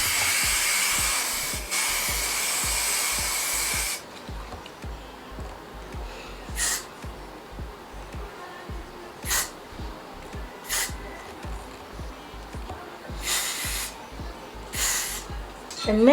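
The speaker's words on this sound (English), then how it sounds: "I'm going to go in with my got to be spray." Got2b hair spray hisses in a long steady burst, then several shorter bursts follow at intervals, close and fairly loud over a soft low background.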